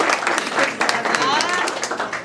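Applause from a full-house audience at a home buyers' seminar, a dense, steady patter of clapping that fills the whole stretch, with voices mixed in.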